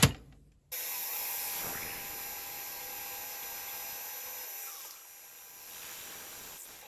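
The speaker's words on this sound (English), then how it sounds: "So right, let's drill some holes." A high-pitched drill whirs steadily after a brief pause, its tone dipping slightly as it bites into metal, close and fairly quiet.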